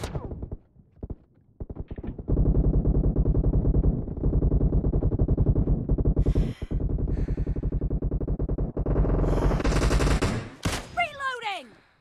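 Rapid automatic gunfire from PUBG Mobile gameplay rattles in long continuous bursts after a few scattered single shots, loud and close, with someone talking over it and a brief reload clatter near the end.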